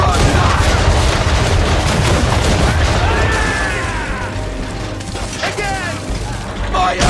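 Swivel guns fire from a ship in the Assassin's Creed 3 video game, a dense, loud barrage of booms and bursts of gunfire over a continuous roar of battle, easing slightly before rising again.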